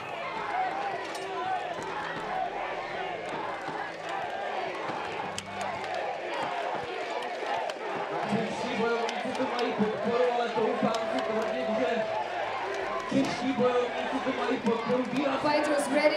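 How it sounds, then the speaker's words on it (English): A Battle of the Nations 5vs5 armoured fight crowd, a steady roar of cheering and shouting spectators at mid distance, continuous throughout with a commentator talking over it. "And you can already hear the crowd getting involved in it."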